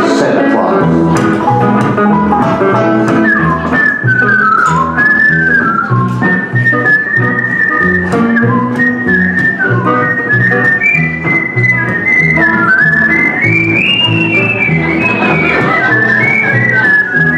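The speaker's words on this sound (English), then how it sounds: "this Elvis medley will begin with a whistle version" Someone whistles a lively, bouncing rendition of "Here Comes Santa Claus" loud and clear at a live show, notes gliding and trilling continuously with faint accompaniment underneath.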